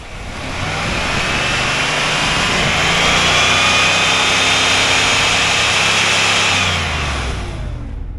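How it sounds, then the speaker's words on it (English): The 5.7L V8 of a 1993 Cadillac Fleetwood runs at a wrecking yard. A loud, steady engine roar swells gradually, holds strong through the middle, then eases off near the end, with no talking. "So we'll listen to the motor."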